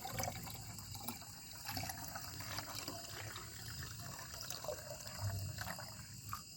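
Water poured from a container around the base of a young teak tree, a faint steady trickle and splash with small irregular drips throughout.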